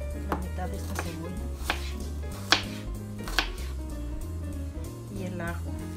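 Half an onion being chopped on a cutting board, a series of close, crisp knife strikes landing in an uneven rhythm under background music, with a voice speaking briefly.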